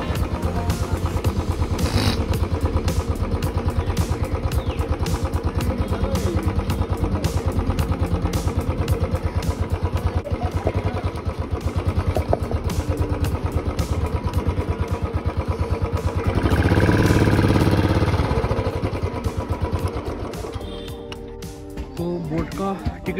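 A motorcycle engine runs nearby throughout, a steady rattling idle with a brief swell of revving midway before it settles again, while people talk faintly in the background.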